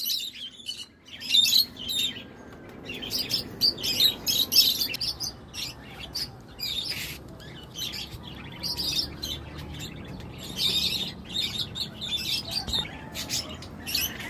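Birds flying free during a training session call out with repeated high chirps and tweets. The calls are scattered across a steady outdoor hiss and stay at moderate distance throughout.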